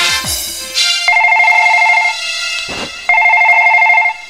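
Telephone rings loudly up close in two long electronic trill bursts, with a short sound between them.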